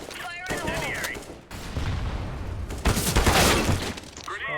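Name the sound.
incendiary grenade bursting in video game CS:GO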